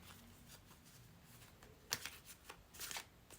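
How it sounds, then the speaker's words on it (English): Soft riffling and flicking of cards, quiet and close, with a few sharper snaps near the end. "Let's shuffle with intention."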